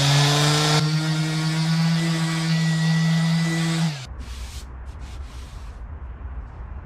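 A power sander works car bodywork with 80-grit paper on a junkyard-rescued Honda CRX, a loud steady whine for about four seconds, then it winds down and stops, leaving only faint scraping.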